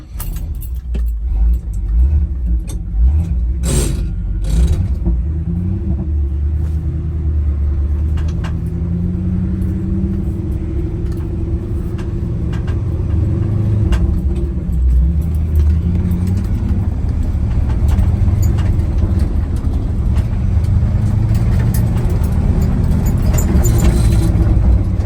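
A 1984 GMC pickup truck idles with a steady, loud low rumble, a few clinks and knocks near the start, continuing evenly throughout with no talk.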